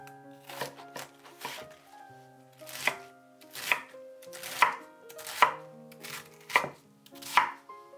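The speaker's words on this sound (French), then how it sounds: "Je coupe le chou chinois en deux. Je le lave. Je le coupe en morceaux." Chinese cabbage is chopped into pieces with a knife on a board, about a dozen crisp close cuts that settle into a fairly regular rhythm of single strikes with brief rustles between.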